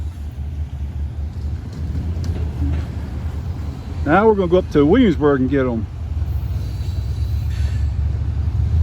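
Heavy Indiana & Ohio Railway grain freight train climbing a grade long hood forward, a low, steady diesel rumble throughout while someone talks over it near the middle.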